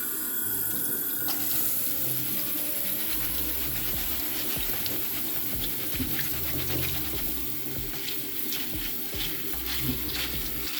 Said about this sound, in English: And you just want to rinse them with cold water.